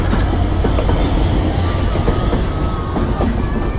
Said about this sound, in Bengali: এই ট্রেন যাচ্ছে